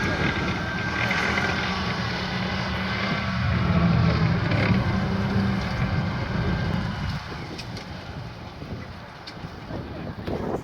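A tracked Rapier missile vehicle rumbles along with a low, rough engine and track drone mixed with wind buffeting, then the noise eases as it comes to a halt.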